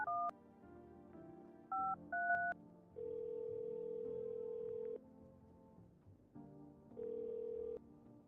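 A phone in the video game No, I'm Not A Human dials out with several short touch-tone beeps, then a long tone, then further tones, set over faint background hum.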